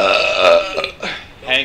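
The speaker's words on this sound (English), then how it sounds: "I hear the echo of the burp like 30 seconds later." A single loud, close burp rumbles out in one drawn-out, croaky gulp that lasts under two seconds.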